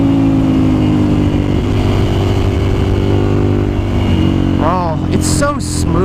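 A 2011 Ducati Monster 796 ABS motorcycle being ridden, its engine a loud, steady close-up drone that lifts into a rising rev as it accelerates near the end.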